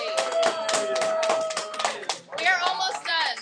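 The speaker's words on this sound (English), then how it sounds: "Everybody give them a round of applause" Classroom students clapping together during an Algebra 2 lesson, a quick burst of light claps mixed with kids' voices and cheering.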